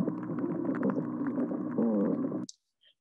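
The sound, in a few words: spotted sea trout call underwater recording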